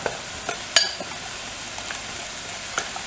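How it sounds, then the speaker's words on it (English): Quiet steady sizzle of food frying in a pan for beef stew, with a few light clinks of a utensil stirring. "Right, so that's frying away nicely."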